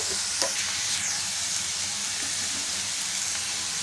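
Capsicum with turmeric and salt sizzles in an open pan, a steady close hiss running through the whole moment with faint stirring taps and no voices.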